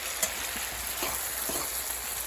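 Seasoned shrimp frying in real salted butter, a steady close sizzle with a few soft stirring taps, heard alone without speech.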